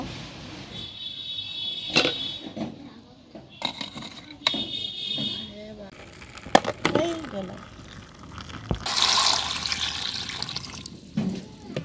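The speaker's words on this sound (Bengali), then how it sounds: "আলু সিদ্ধ হয়ে গেল এখন ঢেলে নেব" Boiling water drained off cooked potatoes in a home kitchen, pouring and splashing in bursts with clinks of a pot and utensils, close and fairly loud, a longer heavy gush near the end.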